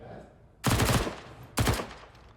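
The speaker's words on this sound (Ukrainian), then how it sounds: "На шорті з Джиджо стріляється" Automatic gunfire in a Counter-Strike match on the Mirage map comes as two loud, close bursts of rapid shots, separated by a short pause, over a quiet game background.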